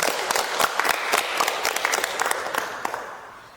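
An audience at a community family gender-awareness simulation event applauds together, a lively crowd clapping with sharper hits up close, swelling and then tapering off toward the end.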